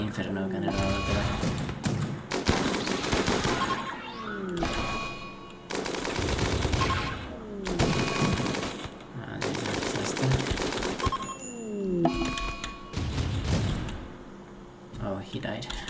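Bursts of rapid gunfire from an Inferno gunner in a video game, with repeated loud rattling volleys separated by brief pauses and someone talking over them.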